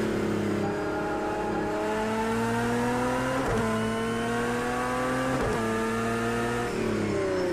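A race car engine in Project Cars 2 at Spa-Francorchamps, loud and steady as it climbs through the revs, with two quick gear shifts dropping the pitch before it climbs again, heard alone without talk.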